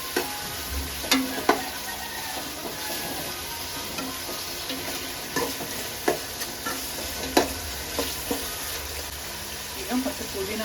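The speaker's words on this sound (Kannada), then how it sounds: "ಈಗ ಟೊಮೊಟೊನ ಹಾಕ್ಕೊಂಡಿದ್ದೀನಿ" Tomatoes fry in a pan with a continuous close sizzle, broken by intermittent clicks and scrapes of a spoon stirring at an uneven pace over about ten seconds.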